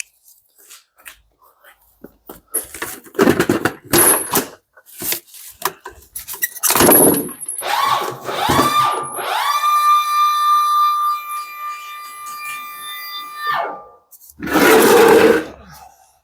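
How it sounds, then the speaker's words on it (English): Power saw cutting through a wooden pallet beside a Cangini flail mower, a loud sustained whining cut lasting several seconds, preceded by scattered knocks and handling bangs and ending with a final burst of noise. "We'll cut the pallet off"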